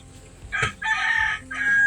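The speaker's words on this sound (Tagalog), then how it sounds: "Yon, manok!" A rooster crows nearby during night spearfishing in the Philippines, loud and clear, in a couple of drawn-out calls with short breaks between them.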